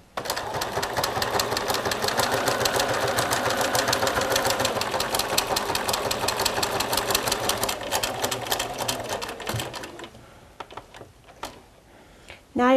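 A sewing machine stitches fabric in a steady, rapid mechanical run for about nine seconds, then stops; a few close clicks and handling sounds follow.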